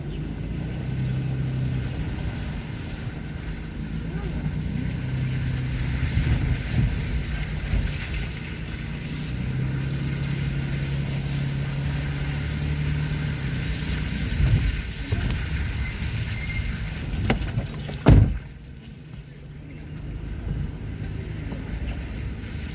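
A car drives slowly over a wet, rain-soaked road in The Gambia just after the rain, giving a continuous low engine rumble with wind buffeting the microphone and a sharp thump or splash near the end.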